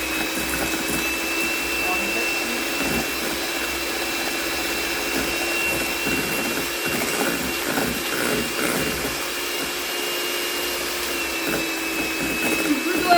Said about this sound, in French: Plutôt avec un thermomix qu'avec un batteur